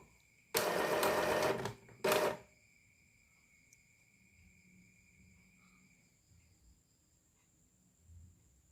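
An inkjet printer fitted with a black-only print head tester runs a nozzle check pattern, a loud mechanical whirring burst of about a second followed by a brief second pass, then quiet with a faint steady electronic whine.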